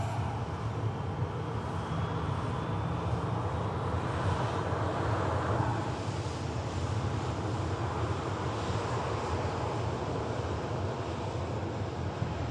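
An airplane departs from Manchester Airport, heard as a steady broad roar mixed with wind noise that swells slightly midway and holds throughout, fairly distant and without any voices.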